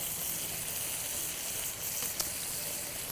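Burger patties sizzle in a pan set directly over hot coals, giving a steady, close, even hiss with a single small pop and no talking.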